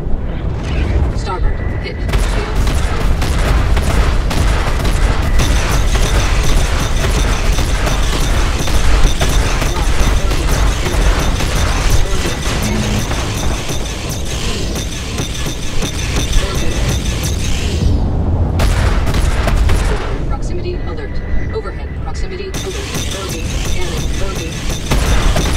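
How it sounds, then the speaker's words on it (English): Fixed guns on a spaceship in Star Citizen fire in dense, continuous volleys of booming blasts that go on almost without a break, loud and close, with a short lull near the end and talk over the top. "this is fixed guns, so I have to actually aim the ship to hit them"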